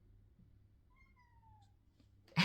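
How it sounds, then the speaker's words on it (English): A pet cat lets out a single soft, drawn-out meow, faint and a little distant in a quiet indoor room, followed by a brief louder bump near the end. "That was one of my cats."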